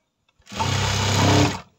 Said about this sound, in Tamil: இப்போ இந்த கோட்டு மேலேயே நம்ம இப்படி மடித்து விட்டு ஒரு படிமான தையல் போட்டுக்கணும்